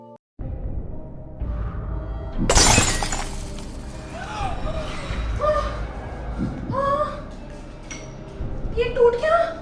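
Glass or dishware breaking indoors at home: a sudden loud crash and shatter, followed by scattered clinks and rattling pieces settling, with people talking over a steady background.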